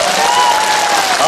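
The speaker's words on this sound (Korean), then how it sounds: "오신 분은 박수 한번 치세요" Congregation applause fills a Catholic Holy Spirit gathering in the Incheon diocese, a dense, steady clapping that runs the full moment with a faint sustained tone threading through it.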